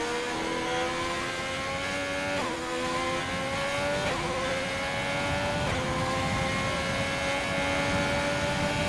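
A race car in a Monza racing game on intermediate tyres, running loud and close, its engine note climbing steadily through gears with brief dips at each upshift.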